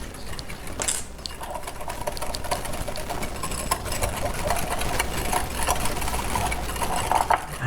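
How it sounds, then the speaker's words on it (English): Greek yogurt, sugar and coleslaw dressing whisked together in a bowl, giving a steady, close, continuous whirring rattle like a small electric mixer, running alone for several seconds. "we're going to get this all whisked together now"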